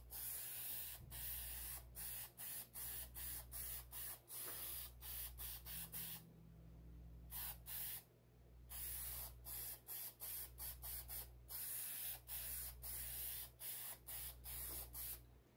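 Tail lights being spray painted with a medium coat, a loud hiss of aerosol spray in repeated short bursts with two longer pauses, heard alone without talk.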